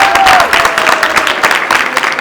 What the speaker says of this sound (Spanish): Un aplauso para él, para ustedes.